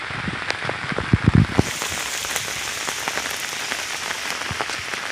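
Light drizzle patters steadily on surfaces in a Konkan village in Ratnagiri in the evening, soft scattered droplet ticks with a few louder nearby drips early on, continuous and alone.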